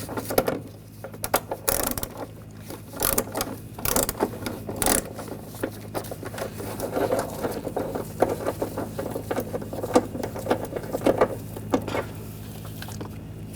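A ratchet wrench fitted with a 13mm socket loosens a nut on a 2004-2012 Chevrolet Colorado 3.7L, giving a steady run of close metallic clicks and taps with brief pauses.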